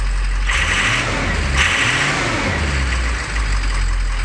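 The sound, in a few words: diesel truck engine revving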